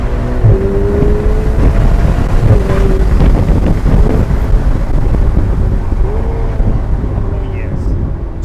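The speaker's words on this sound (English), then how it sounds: "I'm just going to go through the few gears just to give you a sound of the exhaust" A Ferrari Portofino engine revs and rises in pitch through several quick gear changes, its exhaust prominent, with steady wind rush over the microphone throughout.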